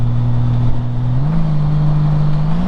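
A Honda Gold Wing GL1800 motorcycle engine in full manual mode runs at a loud, steady hum, then its pitch steps up partway through and holds as it revs toward the limit.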